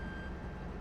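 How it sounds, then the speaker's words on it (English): A vehicle reversing beeper in Farming Simulator gives a steady, piercing high tone over a low engine rumble, heard close in a short excerpt without pauses. "It's a piercingly loud Beeper."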